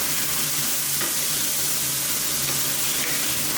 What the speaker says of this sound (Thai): ผัดคลุกเขาให้เข้ากันดีก่อนครับ